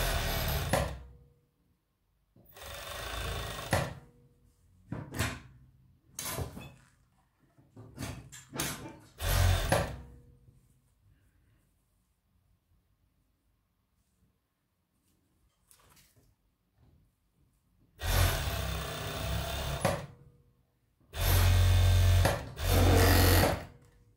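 A sewing machine stitches the sleeve onto a knit sweater in short stop-start bursts, with quiet pauses between runs and two longer, louder runs near the end.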